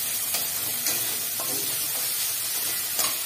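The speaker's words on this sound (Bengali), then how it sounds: "এবার সিদ্ধ করা চিকেনগুলো দেওয়া হচ্ছে, হালকা করে বয়েল করে দিচ্ছি।" Half-boiled chicken frying in a pan with mustard paste, chili and ginger over high flame, giving a steady bright sizzle and hiss with a few brief stirring scrapes, close and alone.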